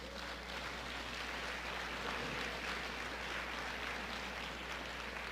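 A church audience applauds for the King of Kings at a sermon, a faint, continuous wash of clapping that swells slightly and holds steady.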